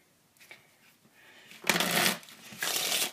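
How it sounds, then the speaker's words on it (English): Playing cards are riffle-shuffled up close, two quick rattling bursts after some softer handling sounds. "They shuffle fairly decent."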